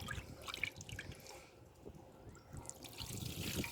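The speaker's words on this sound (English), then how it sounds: "just kind of try to rinse it gently and see what happens" Water rinsing gently over an engine valve cover being cleaned, heard as a steady soft trickle with splashy drips, fairly quiet and continuous throughout.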